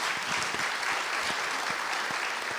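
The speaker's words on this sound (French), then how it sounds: "On peut l'applaudir." An audience at a public debate on disinformation in war applauds a war reporter and Albert Londres prize winner, with continuous close clapping and a few sharper individual claps standing out.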